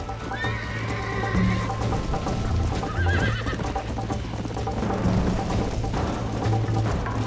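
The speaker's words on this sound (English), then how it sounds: "You're gonna wear that horse out." A horse in the Red Dead Redemption video game gallops with a rapid, steady clip-clop of hooves while loud whinnies and neighs break out over the hoofbeats, close and continuous throughout.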